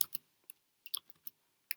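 Keys clatter on a computer keyboard as text is entered into a document, with quiet, irregular clicks in short bursts and pauses, close to the microphone, with no one speaking.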